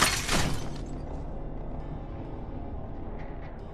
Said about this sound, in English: his bullets hit and shatter the glass